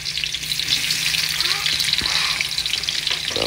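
Squid frying in a pan, a dense crackling sizzle running continuously and loud at close range, with faint stirring scrapes and no voices.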